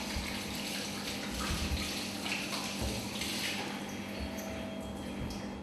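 Tap water runs steadily in Nouakchott, Mauritania, piped in from the Senegal River; a continuous, fairly loud broadband rush with no pauses, heard alone.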